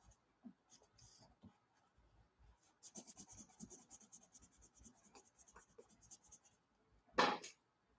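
A budget colored pencil scratches across paper in a coloring book, making quiet, close, irregular strokes that build into a denser stretch of rapid shading before a louder rub near the end.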